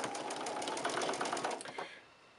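A sewing machine runs steadily, stitching a quarter-inch seam through a quilt block's black frame strips, with rapid needle pulses close up before it slows and stops near the end.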